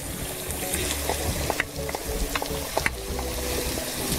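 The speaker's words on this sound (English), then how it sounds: "I'm going to add my uh, tomatoes now" Tomatoes go into a frying pan of softened peppers for a Brazilian prawn bobó de camarão, a constant sizzle broken by repeated scraping stirs and light utensil clicks, close up with no talk.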